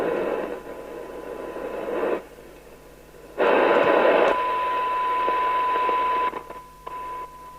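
Bursts of loud hissing radio static from a Uniden Uniace 200 UK FM CB radio under repair cut in and out, with quieter gaps between them and a steady tone running through the latter part.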